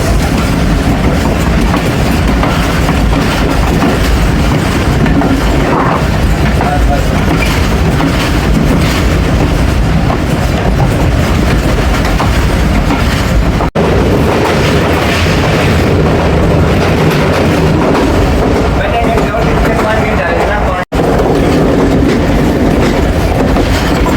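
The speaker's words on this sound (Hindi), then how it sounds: "बुरहान पास कर रही है जी 13 अवाम एक्सप्रेस" The Awam Express passenger train rolls past loud and close, with a steady heavy roar of wheels and rattling carriages lasting the whole stretch and no speech.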